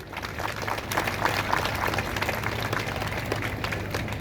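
Audience at a Hindi-language talk on Emperor Ashoka claps steadily throughout, a moderately faint, continuous patter of many hands with no clear break.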